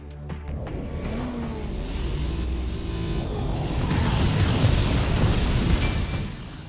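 A truck's engine roars and builds in the racing video game Split/Second, a continuous loud rumble that swells toward the end with a brief rattling at the start.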